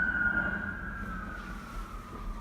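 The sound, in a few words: emergency vehicle siren passing by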